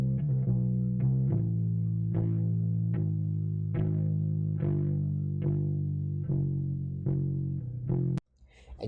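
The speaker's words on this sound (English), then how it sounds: "I'm going to use what's called a Haas delay." Electric bass line widened into stereo with a 6-millisecond Haas delay: about ten plucked notes in a steady rhythm with a thick, slightly chorused tone, ending in a brief click and a quieter tail.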